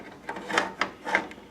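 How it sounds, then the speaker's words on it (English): PC power supply fan being spun and rubbed into place inside a dusty computer case, several short close scraping brushes in quick succession. "spin the whole fan around so I can match it up to the screws."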